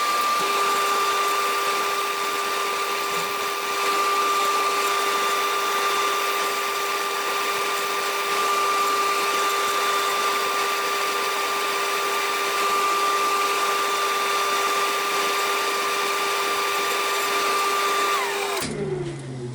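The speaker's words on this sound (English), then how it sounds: "a bit of dust extraction I think" A dust extractor running in a woodturning workshop gives a steady loud whine and rushing hum that holds constant throughout, then cuts off abruptly at the very end.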